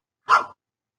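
One short, sharp dog bark, close and fairly loud, standing alone against silence.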